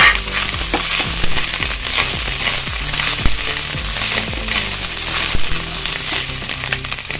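Chopped green chillies and onions fry loudly in oil for chicken Manchurian, with a dense, constant sizzle close by. Spatula strokes scrape and knock against the pan at a regular pace.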